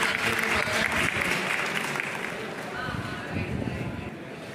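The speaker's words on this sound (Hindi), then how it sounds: "ताली बजा के इनका स्वागत करें।" Audience applause at a district-level teachers' association education conference in Udaipur, Rajasthan, as a guest is welcomed: dense, steady clapping from a large crowd throughout, easing slightly in the middle.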